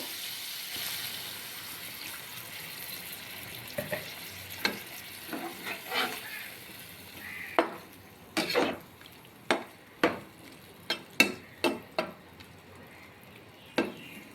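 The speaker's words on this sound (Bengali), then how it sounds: "মশলাটা আমার খুব ভালো করে কষানো হয়ে গিয়েছে। এবার এর মধ্যে একটু জল দিয়ে দিব।" Water goes into a pan of frying spice paste for a cucumber curry, giving a soft sizzle with a quick series of sharp spoon scrapes and knocks against the pan as it is stirred, fairly close and quiet.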